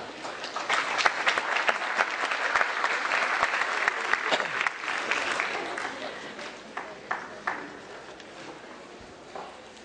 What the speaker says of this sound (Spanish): Vamos a recibir con un fuerte aplauso al doctor William Black.